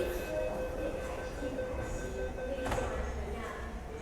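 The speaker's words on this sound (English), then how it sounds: "And this train's going now." A Light Rail train pulls away from Ho Tin LRT stop near Tuen Mun station, Hong Kong. It makes a steady, moderately loud rolling rumble with a single sharp clunk midway.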